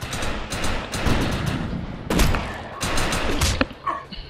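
A sawed-off shotgun fires repeatedly in Defiance, a series of sharp, loud blasts spaced irregularly about half a second apart, each with a short rumbling tail.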